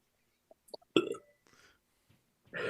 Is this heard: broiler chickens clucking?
no